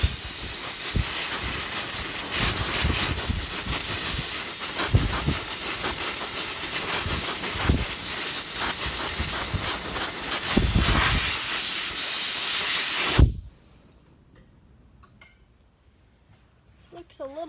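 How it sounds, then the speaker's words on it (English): Compressed air hisses loudly from an air hose blowing dust out of a Briggs & Stratton engine air filter, a steady broadband rush that cuts off abruptly, followed by near quiet. "take your air hose, and kind of just carefully clean it"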